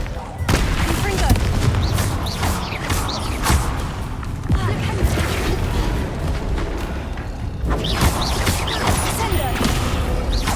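Confringo blasting spell explosions in the video game Hogwarts Legacy, repeated booming blasts and crackling impacts amid battle effects, with spell voices and combat clamor mixed throughout.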